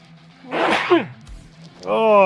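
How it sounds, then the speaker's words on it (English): A single loud sneeze bursts out, followed by a short gasp and a groaning voice afterward. "Oh, I gotta sneeze."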